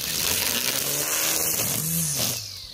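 A Makita 18V X2 36V brushless three-speed string trimmer revs up close by, its motor whine climbing in pitch near the end before dropping off, with no talking.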